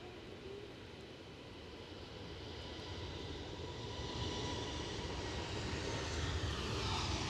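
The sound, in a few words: airplane departing Edinburgh Airport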